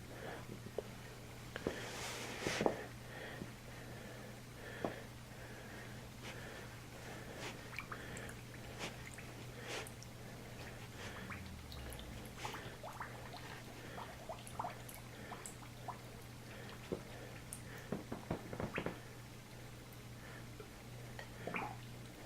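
Water filling a hose-like pipe for a DIY hot tub, with scattered gurgles, drips and squishy bubbling pops as trapped air escapes, faint and irregular over a steady low hum.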